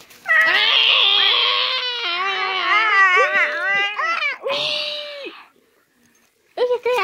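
Loud, drawn-out wailing meows from a cat in a video game, several long bending cries in a row with a brief pause before another starts.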